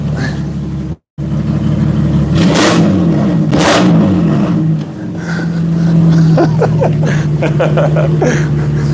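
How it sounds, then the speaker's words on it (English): A BMW E92 coupe engine revs hard twice in quick succession, rising and falling sharply up close, then settles back to a loud steady idle rumble; the car has not fully warmed up. "I'll give a rev so you guys can hear what this guy sounds like"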